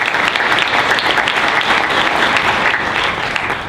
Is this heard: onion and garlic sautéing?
no